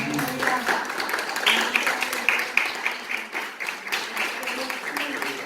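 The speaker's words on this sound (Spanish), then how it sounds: "Dale un aplauso" Congregation applauding during a church service, a steady wash of claps held at a moderate level throughout, with a voice speaking over it.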